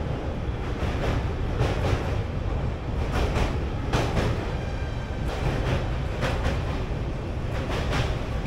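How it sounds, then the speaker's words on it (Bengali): A passenger train out of Sealdah rolls across Bally Bridge: a steady, loud rumble of wheels on the steel span, with rhythmic clattering from the rail joints and no voices. "শিয়ালদা ছাড়া কিছুক্ষণ পরই ট্রেনটি পৌঁছেছে বালি ব্রিজের ওপরে"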